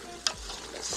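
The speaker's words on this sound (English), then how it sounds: "the meat has been frying" Mutton sizzles steadily in a hot pan outdoors, with a brief clatter of a utensil stirring near the start.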